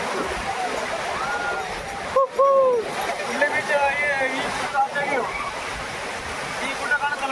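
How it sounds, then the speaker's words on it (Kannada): Sea waves wash in at Murdeshwara beach, giving a steady broad rushing surge with splashes. People talk over the water throughout. "ಅದು ಅಲೆ ಹೊಡೆದಿದ್ದು ಸ್ಪೀಡು"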